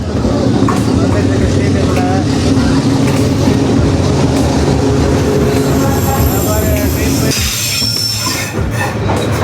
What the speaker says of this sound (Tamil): ட்ரெயின் வந்துட்டுருக்கு பாருங்கள்